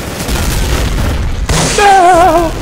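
A grenade in the Day of Defeat Source game bursts with a sudden loud boom amid ongoing battle noise, followed by a ringing, wavering tone.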